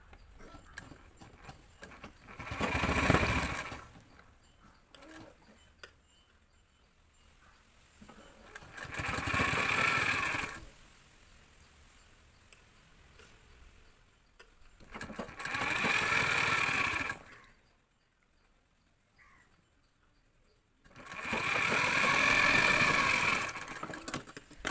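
A sewing machine stitches a hook into a blouse in four separate runs of steady whirring, each lasting a few seconds, with quiet gaps between them, close by.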